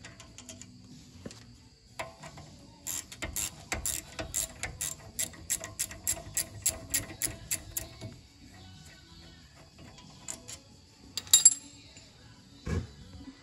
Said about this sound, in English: you can use your gear wrench and get them out the rest of the way